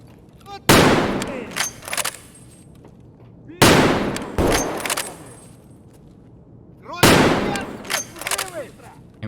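Shotgun blasts in the Escape From Tarkov video game, three loud sharp reports spaced a few seconds apart, each followed by pump or reload clatter and echoing tails.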